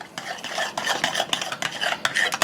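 A utensil stirs lime juice and taco seasoning together in a bowl for Mexican coleslaw dressing, giving quick repeated clinks and scrapes in an uneven rhythm, close by.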